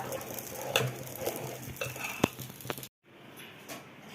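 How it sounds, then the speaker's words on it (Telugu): A millet (samai) dosa sizzles in a hot pan after flipping, with steady soft frying and a few scrapes and clinks of a spatula. The sound drops out briefly, then returns quieter. "ఇప్పుడు ఇంకో సైడ్ కూడా తిప్పేసుకొని ఇది బాగా ఫ్రై చేసి క్రిస్పీగా వచ్చింది దోశ"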